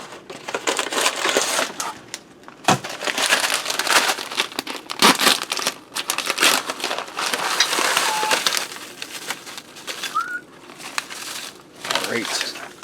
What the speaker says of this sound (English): I swear you have to be Arnold Schwarzenegger to rip these bags open.